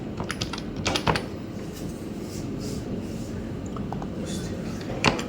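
Someone types on a computer keyboard, with quick bursts of key clicks at the start and a final tap near the end over steady low room noise.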